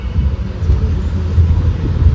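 A small bus pulls away from the Alakkode bus stand in Kannur, its engine giving a close, steady low rumble with no talk.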